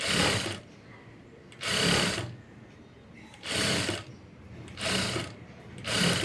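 A sewing machine stitches self piping onto a blouse in five evenly spaced bursts of rapid mechanical chatter, with quieter pauses between runs.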